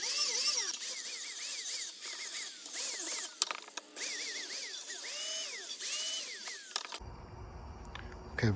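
Burrs being ground off a steel plate for a front crossmember modification, a power tool whining in repeated rising and falling bursts up close, then a rougher, noisier stretch near the end.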